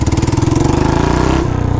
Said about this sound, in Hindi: आवाज़ बहुत गंदी आ रही है भाई बुलेट की